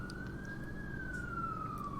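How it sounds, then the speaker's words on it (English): Emergency vehicle siren wailing in a slow rising and falling tone over a steady low rumble of traffic, moderately distant and continuous. "Hear them sirens."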